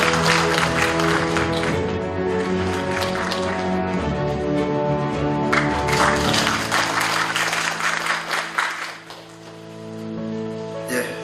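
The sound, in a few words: audience applauding to welcome a speaker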